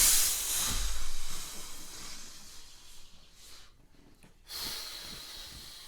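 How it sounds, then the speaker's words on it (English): A long, deep exhale during a yoga breathing exercise, a broad close hiss that swells and then fades to near silence before another breath begins, with no talking. "we're going to take a deep, full breath out"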